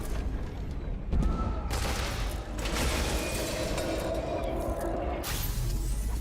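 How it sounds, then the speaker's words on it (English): Gunfire in a multiplayer video game, a dense crackle of shots with sharper bursts near the start and around the five-second mark over a steady game-noise bed. "Shooting at somebody."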